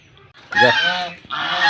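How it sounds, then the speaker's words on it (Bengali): Domestic geese honk loudly and close by as they are let out into a field, with one long harsh honk followed by a second burst after a short pause. "হাঁসগুলো এখন মাঠে বের করে দিচ্ছি"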